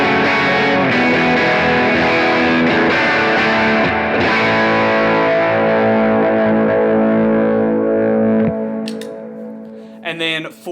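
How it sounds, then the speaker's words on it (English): Electric guitar played through a Superbolt overdrive pedal, strummed loudly in a big sustained chorus passage with thick, continuous distorted chords that fade toward the end, followed by a couple of brief sharp bursts. "And so this is what the Superbolt would sound like."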